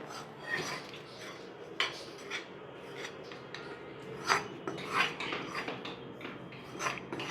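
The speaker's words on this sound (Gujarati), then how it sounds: "મિક્સ કરી દેવાનું છે બંધ કરી દેવાનું આ રીતે આને હલાવવાનું છે" Chevda of rice flakes with dry chillies, spices, sesame, cumin and fennel gets stirred in a pan, giving faint raspy scraping and light metallic clinks in an uneven rhythm.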